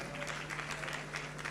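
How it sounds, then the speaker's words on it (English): A seated audience at the EU–Kenya Business Forum 2025 opening ceremony claps for Cabinet Secretary William Kavogo, a short, soft, even patter of many hands heard from a distance. "A big round of applause for him."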